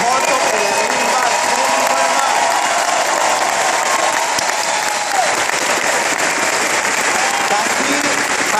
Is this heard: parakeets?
no